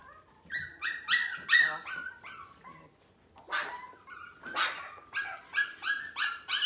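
Puppies whimper, yip and bark in short, high-pitched bursts, close and fairly loud, with brief pauses between clusters of cries.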